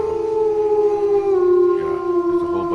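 A long, sustained howl with a steady wavering pitch that holds loud and close, with overlapping tones suggesting several dogs howling together.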